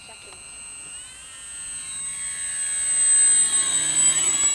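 Electric XFly Tasman 1500mm-wingspan RC STOL bush plane on 4S power flying slowly with full flaps, a steady whining motor drone that swells gradually louder as it approaches, with no talk over it.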